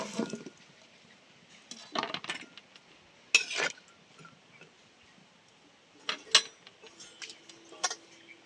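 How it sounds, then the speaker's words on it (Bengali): Potatoes dropped into a pan of salted water, heard as a few separate clunks and splashes with clinks in between, close by and without talk. "এবার আমি আলুগুলো দিয়ে দিচ্ছি।"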